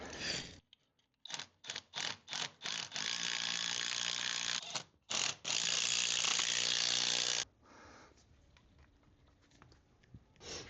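Ratchet wrench driving special concrete anchor bolts into drilled holes for mounting a winch on a project car, heard as a few short ratcheting bursts followed by long continuous clicking runs, close and fairly loud, then fading to quieter handling noise.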